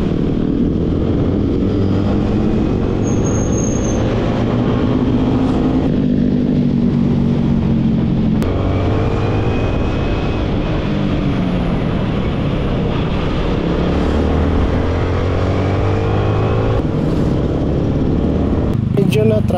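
A sports bike motorcycle rides through traffic, its engine droning steadily and rising and falling in pitch under constant loud wind rush.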